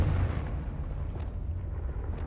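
A Confringo fire spell blasting in the video game Hogwarts Legacy: one muffled, low rumbling boom at the start that fades into a brief crackling tail, fairly faint.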